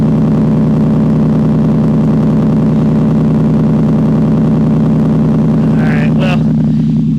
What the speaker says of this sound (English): We're blowing nice hot exhaust gases onto the fuel tank directly